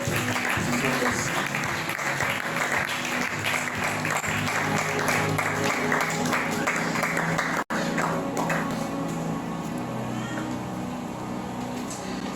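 Church congregation applauding and acclaiming during a service, a dense steady wash of clapping that fills the room, breaks off abruptly, then resumes more softly under a speaking voice.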